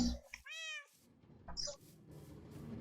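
Cat meowing in the Minecraft video game, a single clear harmonic meow followed by a second shorter game sound, with faint background noise and no talking.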